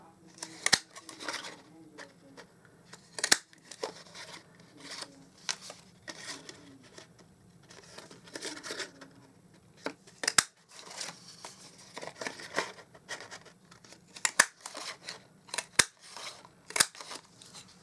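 A small craft punch cutting tiny flowers from Blush and Bride cardstock: sharp, quiet clicks and snaps repeat irregularly, separated by soft rustling of paper and light handling noise at close range.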